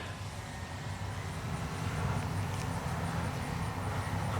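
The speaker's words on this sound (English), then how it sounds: "What a fun plane." A CNHL Bison XT radio-controlled STOL airplane flies overhead, its propeller and motor making a steady drone that holds level for several seconds under broadband wind-like noise, with no talk.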